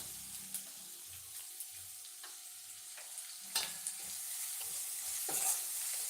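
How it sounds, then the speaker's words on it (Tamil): Onions and capsicum sauté quietly in a pan for pasta, a soft sizzle with occasional scraping and clinking stirs and a brief watery splash, with no voices. "வெங்காயம் நல்லா வதங்கிடுச்சு இதோட குடமிளகா ஆனியன் அந்த இலை இருந்துச்சுன்னா அதையும் போடுங்க"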